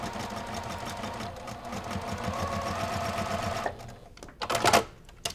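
A sewing machine stitching a quarter-inch seam on a Halloween pumpkin quilt block, a fast steady mechanical whir with rapid needle chatter for several seconds, then it stops and brief clicks and fabric handling follow nearby.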